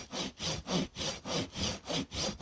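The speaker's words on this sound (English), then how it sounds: "will get to sawing." Rhythmic back-and-forth strokes of a hand saw cutting through wood, about eight even rasping pulls, close and clear.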